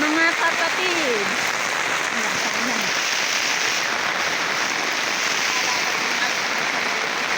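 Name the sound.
heavy rain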